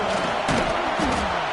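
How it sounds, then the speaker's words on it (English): A football stadium crowd roars loud and continuous, a dense wash of cheering with a couple of heavy thumping surges. "Listen to this crowd just shaking the girders of this place"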